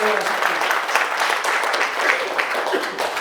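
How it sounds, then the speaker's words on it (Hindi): Steady, dense audience applause in response to a call to cheer for a group at a motivational seminar, continuous and fairly loud throughout with no pauses. "इनके लिए थोड़ी जोरदार तालियां हो सकती है।"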